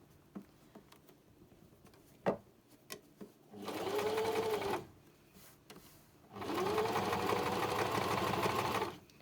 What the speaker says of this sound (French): Comme vous pouvez le voir, je ne couds pas très vite.